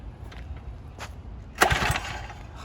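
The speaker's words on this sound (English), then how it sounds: "Pull start, give it a little throttle. It should start up." A turbo mini bike's small engine is yanked by its pull-start cord with a bit of throttle, giving a sudden loud burst of rough, sputtering engine noise that runs briefly close by.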